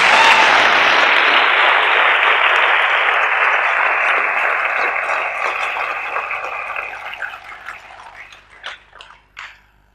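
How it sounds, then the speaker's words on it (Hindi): Loud, sustained applause from a motivational seminar audience, starting dense and gradually thinning out, with scattered individual claps near the end. "इतने महान आदमी के लिए जोरदार तालियां तो होनी चाहिए ना कम से कम।"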